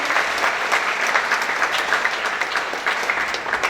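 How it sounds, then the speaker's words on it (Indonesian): Steady, dense applause from a university audience at a Bank Indonesia lecture, honouring a provincial governor; sustained clapping that fills the room evenly without a break. "Kita beri aplaus untuk Pak Gubernur."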